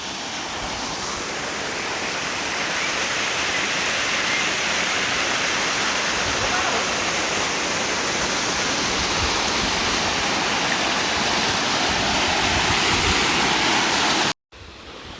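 A small waterfall in the hills near Katraj, Pune, rushes as a loud, steady broadband roar close by, continuous throughout before cutting out briefly near the end.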